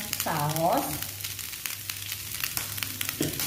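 Pork rice vermicelli sizzles as it is stir-fried in a pan, a close, steady crackle with scraping stirs, and a brief voice near the start.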